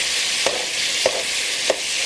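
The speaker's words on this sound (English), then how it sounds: "I don't know if you can hear me over all this sizzling." Steady, loud frying hiss fills the clip, with three soft clinks or scrapes spaced evenly through it.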